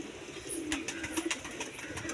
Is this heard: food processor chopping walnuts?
no